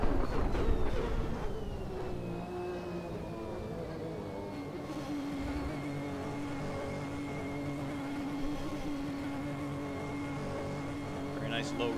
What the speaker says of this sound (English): Very nice low rev sounds here as we're cruising in the pit lane.